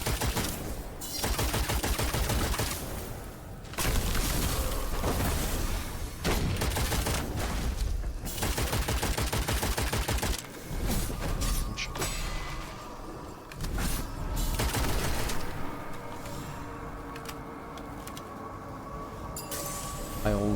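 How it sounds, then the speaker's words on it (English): Rapid automatic gunfire rattles in bursts in the shooter video game Witchfire, dense loud volleys of heavy, cannon-like weapons broken by brief pauses across the whole stretch. "They do feel like fully automatic cannons."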